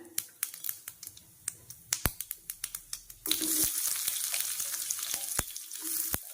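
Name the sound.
shallots sizzling in hot oil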